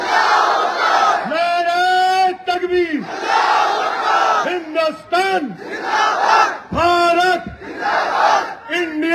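A large crowd chants a rallying cry in unison at a Majlis political rally in Telangana, several loud, drawn-out shouts following one another with brief pauses between them.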